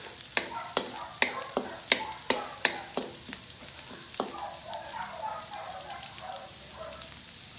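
Garlic, onion and butter sizzle in a pan while being stirred, with a run of sharp, evenly spaced scraping strokes over a steady frying hiss that then settles into continuous bubbling sizzle.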